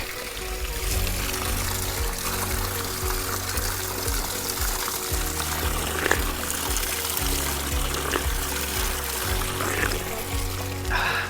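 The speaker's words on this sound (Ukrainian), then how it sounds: "Завжди люблю, коли на шляху в горах є джерело." Water from a mountain spring beside a trail in the Ukrainian Carpathians pours and splashes continuously, a close, steady gurgling stream with low shifting burbles and no voices.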